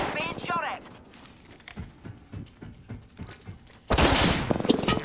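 Gunfire in Apex Legends, rapid bursts of shots at moderate distance in an uneven stuttering rhythm, followed by a louder, denser volley near the end, with voice chatter in the game mix.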